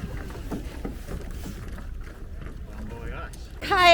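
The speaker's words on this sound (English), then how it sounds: "Kayaking in Antarctica!" A kayak paddles through water in Antarctica, with soft splashing and wind noise beneath voices, and a louder burst of cheering at the end.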